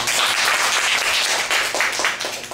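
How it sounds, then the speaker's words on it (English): A small group of girls in a classroom activity claps together in a dense, lively round of applause that stays loud and close for its full length, with no talk over it. "let's give our group a big clap first"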